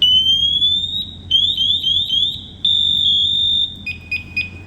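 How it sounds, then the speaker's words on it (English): A firefighter's SCBA PASS alarm is triggered manually with its red button, giving loud, piercing electronic tones: repeated rising sweeps, then a sustained steady tone, then rapid shorter beeps, close up with a low background hum. "this is what should happen when you hit your pass alarm"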